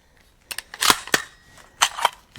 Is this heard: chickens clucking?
no